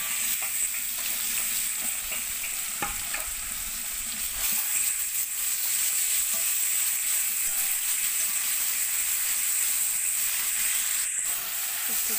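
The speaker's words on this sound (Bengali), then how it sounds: "রসুন বাটা আর পেঁয়াজ কুচি দিয়ে এটাকে ভেজে নেব" Fish coated in garlic paste fries with chopped onion in a pan, giving a continuous bright sizzle and hiss with an occasional stirring knock, no voices.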